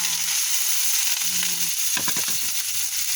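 Bitter gourd (ampalaya) frying in plenty of oil, a steady broadband sizzle running throughout, with a few short stirring scrapes and clatters partway through and no talking.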